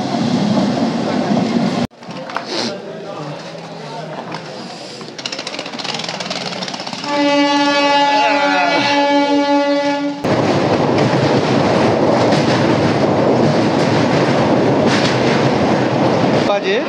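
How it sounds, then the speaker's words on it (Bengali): Passenger train heard from inside a carriage on an early-morning run toward Khirai, West Bengal: a loud, steady rolling rumble throughout, with a sustained horn-like tone rising over it midway. "অলরেডি আমরা ট্রেনের মধ্যে আছি।"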